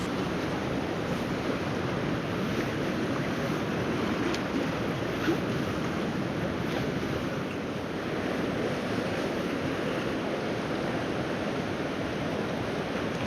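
River water rushing during spring runoff, a dense, steady broadband roar of flowing current that continues unbroken and fairly close, with no voices.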